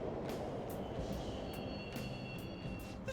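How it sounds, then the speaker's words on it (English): Subway trains running in a Persona 5 Royal game scene, a steady low rumble with faint squeal tones and periodic clacks, continuous throughout. "The trains are totally running."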